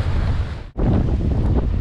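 Large ocean waves break and wash in a continuous loud roar, heavy wind buffeting the microphone throughout, with a brief dip in the noise partway before the surge returns at full strength.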